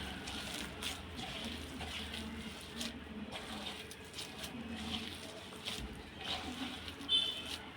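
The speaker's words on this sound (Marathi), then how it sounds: "अगदी थोडंसंच पाणी टाकायचं आहे" Water is poured in a small splash into thalipeeth flour in a bowl: a faint, soft trickle and slosh at low volume, with occasional quiet handling noises and no clear talk.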